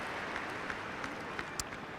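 A large tennis crowd at the WTA Finals in Istanbul sends up a steady, close wash of applause and noise, with a few louder claps poking out over the dense roar.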